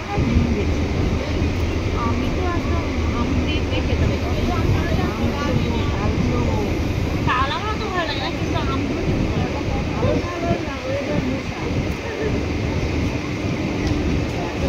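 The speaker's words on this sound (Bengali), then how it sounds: "এই শিয়ালদায় ট্রেনটা ঢুকে গেল আমাদের 9:13 বাজে।" Local train pulling into Sealdah station, a steady loud rumble and hum of the carriage throughout with voices of passengers underneath.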